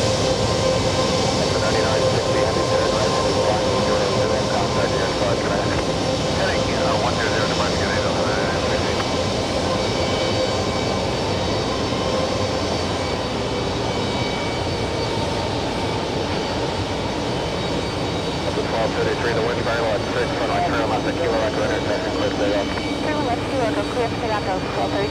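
An airliner departing JFK Airport roars loudly and steadily, its engine noise shifting in tone as it climbs away, with people talking over the sound at times.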